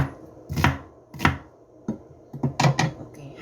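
Knife chopping an onion on a board for angler fish stew, with two spaced strikes followed by a quicker cluster of four or five sharp chops, close and clear with no talk.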